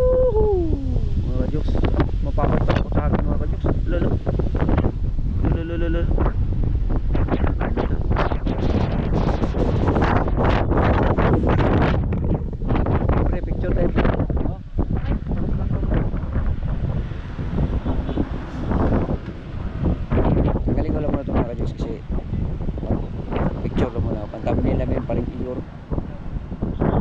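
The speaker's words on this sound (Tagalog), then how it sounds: "ang sarap ng hangin dito" Wind at the beach buffets the microphone in loud, continuous rumbling gusts throughout, with faint voices now and then under the roar.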